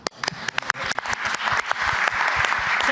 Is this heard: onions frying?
no